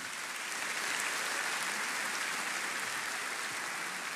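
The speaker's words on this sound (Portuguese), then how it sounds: "Você pode aplaudir essa igreja linda?" A church congregation applauding, a dense, steady wash of clapping from many hands that holds at an even level throughout with no voices over it.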